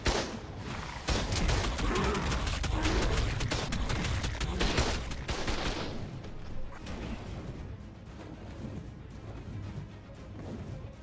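Gunfire in the video game Ark Ascended, Scorched Earth map: loud, dense volleys of shots and crashing impacts for several seconds that then thin out into scattered rumbling bursts.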